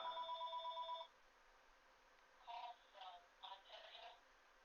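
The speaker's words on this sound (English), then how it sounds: "Oh, there's a phone call." A telephone rings for an incoming call, a faint electronic trill that repeats for about a second, then stops, followed by soft scattered household sounds.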